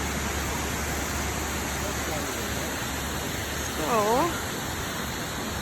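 Roughlock Falls waterfall rushing in a steady, loud broadband roar that fills the whole stretch, with a brief voice near the end over the constant water noise.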